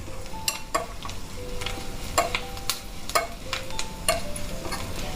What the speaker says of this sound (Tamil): இந்த இஞ்சி, பச்சை மிளகா இதெல்லாம் எண்ணெயில் நன்னா பொரியணும்.